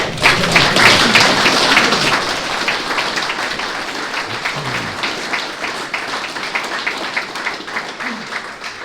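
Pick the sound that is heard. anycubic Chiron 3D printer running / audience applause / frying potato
audience applause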